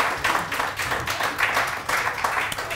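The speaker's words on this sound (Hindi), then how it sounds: "बहुत सारी तालियां." Audience applause in a morning television studio, rhythmic clapping rising and falling in bursts over a short stretch, fairly close and moderately loud.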